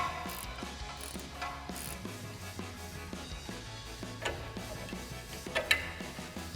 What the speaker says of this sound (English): we can slide our 18mm ratcheting wrench onto our nut, then our 6mm Allen socket in the middle